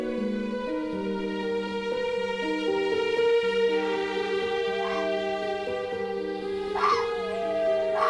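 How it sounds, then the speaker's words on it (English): A male red fox yips and howls a mating call in a sustained, wavering, harmonic cry, with rising whines layered over it; steady and fairly close, no talking. "So he calls for her with his special fox's howl."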